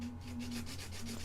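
Steady abrasive rubbing of a belt sander working an Amiga B2000 computer case part, rhythmic scratchy passes over a constant low motor hum, close and continuous with no talk.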